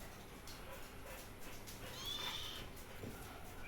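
A quiet, somewhat distant cat meow rises once against faint background noise, with no talking.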